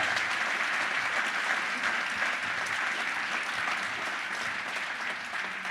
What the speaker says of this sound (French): Applaudissements, s'il vous plaît, mesdames et messieurs,